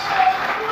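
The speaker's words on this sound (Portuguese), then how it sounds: "aplauda mais forte" A church congregation applauding harder during a morning worship service, a brief dense roar of many hands clapping with voices mixed in.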